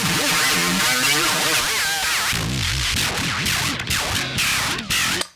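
Reamp training file for a neural amp modeler played back through a guitar amp, a loud, dense stream of distorted tones, sweeps and chirps that shift constantly, then breaks into choppy bursts before cutting off.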